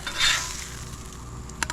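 Squash and red snapper fillets sizzle on a Blackstone flat-top griddle, a close hiss that swells briefly at the start, then settles into a steady fry, with a couple of light spatula scrapes near the end.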